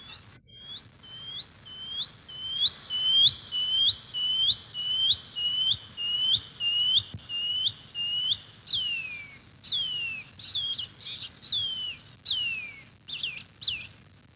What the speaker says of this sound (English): the moment you've all been waiting for, the songbird, or the bird song of the pipi wharaoroa